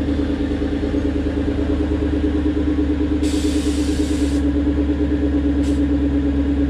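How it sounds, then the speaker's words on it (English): A Ford Mustang idles while warming up after sitting for a couple of hours, its engine a steady, close, low rumbling burble that holds even throughout, with brief hissing noises partway through. "Letting the car warm up right now just because it was sitting for a couple hours."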